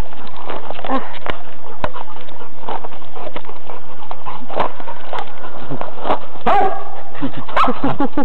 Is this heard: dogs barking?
yes